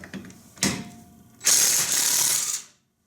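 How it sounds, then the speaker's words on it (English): A DeWalt 20V 1/2-inch cordless impact wrench with a 17mm socket hammers lug nuts loose in two loud, close bursts, a short one and then a longer sustained rattle, ending in silence. "I'm going to go ahead and put my 17mm socket on here. And let's see how fast this takes lug nuts off."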